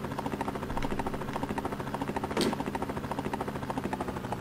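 Helicopter rotor noise from the Amiga video game Rescue, a rapid, evenly pulsing mechanical chop that runs steadily throughout, with one brief louder burst partway through.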